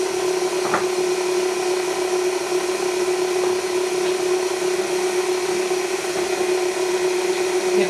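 An electric mixer beats sugar and egg together for hot cross bun dough, a steady, continuous whirring motor drone running loud and unbroken throughout, with no talking.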